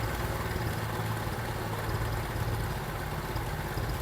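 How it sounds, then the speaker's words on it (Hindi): A 70 cc motorcycle engine idles at lowered RPM after a carburetor service, a faint, continuous, uneven mechanical rumble with no voices over it. "अब यहाँ से हम आरपीएम डाउन कर देते हैं।"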